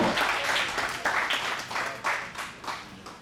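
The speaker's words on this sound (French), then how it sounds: "Merci d'applaudir monsieur Achille Nikiema." Sustained applause from a conference audience, many hands clapping at once in a dense, continuous wash that swells and dips slightly, with no voices.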